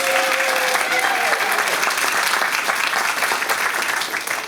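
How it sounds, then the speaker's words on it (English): Applause from the audience at a school district board of trustees meeting, a full steady round of clapping from many people that carries on throughout and eases off slightly at the end. "Please give her one more round of applause."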